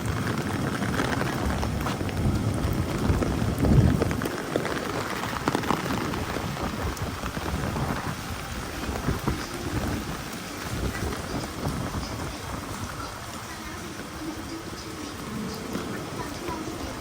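Heavy rain lashing down during a Hong Kong typhoon, a constant roaring patter with gusts of wind, while people talk intermittently over it throughout.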